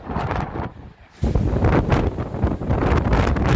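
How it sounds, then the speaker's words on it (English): Strong wind in Hawaii buffets the microphone with loud, roaring gusts, briefly easing before surging back into a continuous heavy rumble. "this is really windy"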